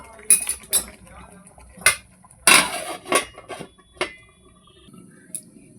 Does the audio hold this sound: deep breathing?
no